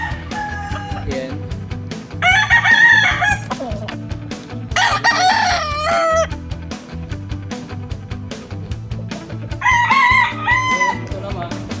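Roosters at a small chicken farm crow in three loud separate bursts over a steady rhythmic background clatter, with a brief voice heard in between.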